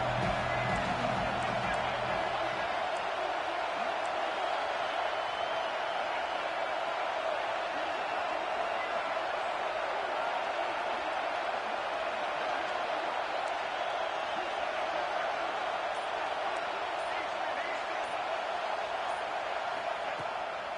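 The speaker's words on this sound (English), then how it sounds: "This crowd rising up, sensing that its defense needs some help." A football stadium crowd roars steadily for the whole stretch, a dense, continuous wash of noise under a commentator's play-by-play voice.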